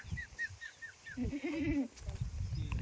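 A household goat bleats in a few short, wavering calls, close by, with quieter high chirps and outdoor background noise, in Vaijapur, Sambhajinagar.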